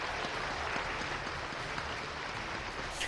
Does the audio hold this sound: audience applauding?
yes